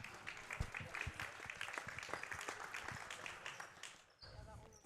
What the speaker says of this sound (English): Fans are clapping